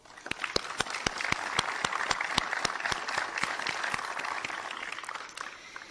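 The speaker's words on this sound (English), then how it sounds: "Please join me in a round of applause for those who helped make this evening possible" Audience at a live webinar event on Cherokee Removal transportation applauding in thanks, many people clapping with some sharp, close individual claps standing out over the crowd for about six seconds before tapering.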